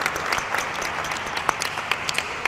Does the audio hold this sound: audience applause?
yes